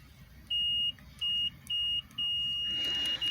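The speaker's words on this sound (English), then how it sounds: "I got my meter on continuity test, and it's gonna pretty much just let me know if the fuse is good" A digital multimeter on continuity test beeps steadily as its leads touch both ends of a good fuse from a G35's power mirror circuit, giving four clear, even-pitched tones of varying length with short gaps, close and loud.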